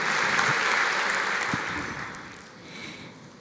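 Church congregation applauding to praise God, a dense and fairly loud round of clapping that fades gradually, with brief murmurs underneath.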